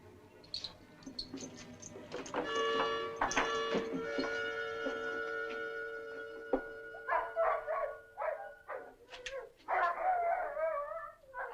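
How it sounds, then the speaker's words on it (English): Several sled dogs howl in long sustained tones layered together, then break into a run of sharp, loud barks near the end, with no talking. "I wonder what's bothering those dogs"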